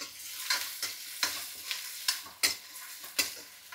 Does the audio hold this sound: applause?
no